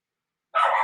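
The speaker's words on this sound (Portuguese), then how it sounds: "Olha o cachorrinho aí." A little dog gives a single short, sharp bark in a theatre commercial, sounding abruptly after silence.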